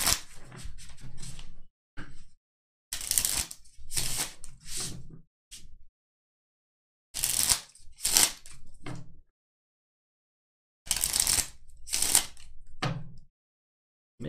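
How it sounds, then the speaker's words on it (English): Keyforge playing cards being shuffled by hand in bursts of crisp riffling and rustling, separated by silent pauses, heard close and alone. "Alright, so this gets shuffled again."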